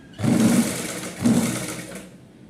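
A sewing machine stitches the border of a nauvari saree in two short motorized runs with a brief pause between, close and steady, with no talking.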